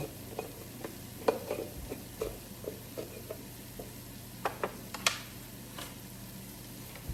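Basil being stirred into a pot of vegetable soup: quiet, scattered clicks and taps of a spoon against the pot over a faint, steady simmering hiss, close by, with no talk.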